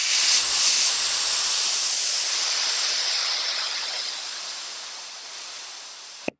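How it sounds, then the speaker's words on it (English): Air rushes out of a deflating Acacia inflatable airfloor in one loud, close, continuous hiss that slowly fades over several seconds before stopping abruptly. "I'll unscrew the airfloor, and then you press down on this to deflate."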